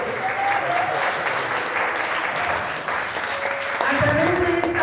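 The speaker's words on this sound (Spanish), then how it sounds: "¿Cuántos le pueden dar un aplauso al Señor?" Church congregation applauding together, a dense continuous wash of clapping with voices and shouts of praise mixed in, filling the room at close range.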